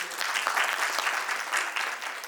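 Audience at a spiritual gathering applauding, a brief steady round of many hands clapping, somewhat soft and distant, with no talk over it.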